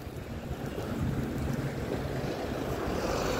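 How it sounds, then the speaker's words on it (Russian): Hurricane-strength wind gusting outdoors near a new park by Baku railway station, a loud, constant roaring buffet of microphone wind noise with no voices. "Ураганный ветер такой."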